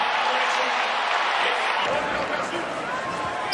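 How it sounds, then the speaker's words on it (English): Crowd noise in a college basketball arena during a Creighton versus Marquette game, a loud continuous roar of cheering that swells and shifts, with no clear talk over it. "And listen to this crowd."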